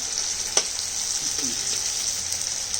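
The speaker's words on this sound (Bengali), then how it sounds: "আর এদিকে মাছের ঝালের জন্য মশলাটা কষিয়ে নিচ্ছি।" Spice paste frying for a fish curry, a steady, even sizzle close by with a single sharp tap and some faint stirring noises.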